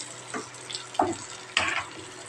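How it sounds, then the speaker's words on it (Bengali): Eggs fry in a pan with a quiet, steady sizzle broken by a few sharper crackles and spatters, close by and without talk. "এবার ডিম্বো ভাজবো"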